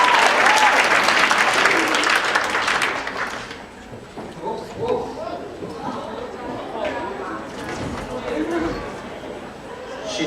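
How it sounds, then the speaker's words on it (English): Audience applause at a KitsuneKon 2014 cosplay contest swells loudly for about three seconds, then fades into scattered clapping and crowd chatter, with people talking over the room. "Round of applause for doing this job."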